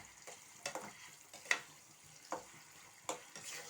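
Mango pickle (thokku) is stirred in oil in a pan, a soft sizzling bed broken by several sharp scraping strokes of the spoon at irregular intervals, close up with no voices.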